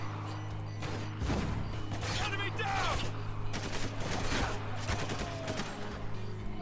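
Gunfire in Spec Ops: The Line, sandy desert combat with rapid bursts of automatic shots and scattered single cracks over a low steady hum, with someone talking briefly in between.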